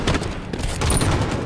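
Enemy gunfire rattles in a short, continuous burst of overlapping shots, loud and close, with no pause between reports.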